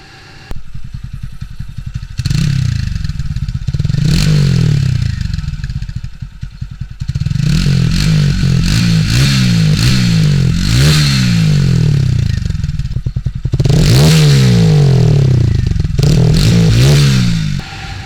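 A TVS Apache RTR 200 4V motorcycle engine revs loudly up close, rising and falling in several throaty bursts between idling stretches.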